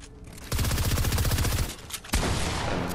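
Combat assault rifle fire in Fortnite: a rapid, sustained automatic burst crackles loudly up close. After a brief pause, a second heavy burst of shots follows.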